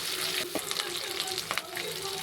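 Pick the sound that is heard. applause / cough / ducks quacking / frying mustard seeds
frying mustard seeds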